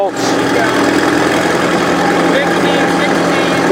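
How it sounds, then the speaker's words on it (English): Caterpillar twin welder engine running steadily and loud, a constant mid-pitched drone with no clear rise in revs, while someone talks over it. "he's gonna rev it up now"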